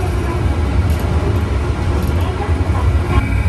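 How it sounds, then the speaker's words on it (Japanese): Steady low rumble and rolling noise from inside a Centram streetcar (tram) owned by Toyama City, heading toward Toyama Station, continuous and fairly loud throughout. "路面電車に乗車して富山駅へと向かいたいと思います。"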